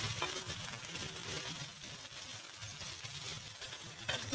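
Curry leaves dropped into hot oil in a kadai with mustard seeds, chana dal and urad dal for tempering: a steady, faint, crackling sizzle with soft popping, continuous and alone without voices.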